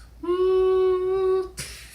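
A voice imitates a quadcopter drone with a single steady, nasal buzzing hum lasting about a second, followed by a short breathy hiss.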